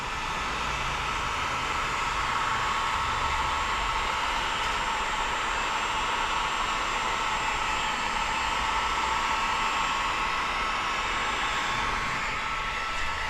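A heat gun blows hot air over paint protection film on a car. Its steady, loud hiss of airflow continues without a break for the whole stretch, and nobody speaks.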